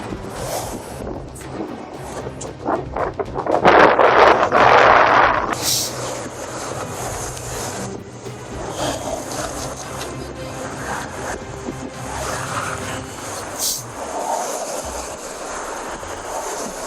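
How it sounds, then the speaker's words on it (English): Gusty wind in rainy weather buffets the microphone with a broad rushing roar, swelling loudest for a couple of seconds early on, then steadier and lower over background rumble. "A little windy, it's rainy"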